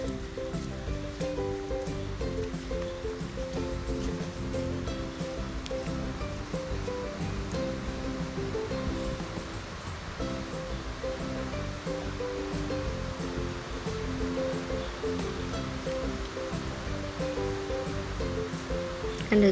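A stream swollen after rain rushes quickly over rocks, making a steady, close, full-bodied wash of water that stays even throughout, with no voices over it.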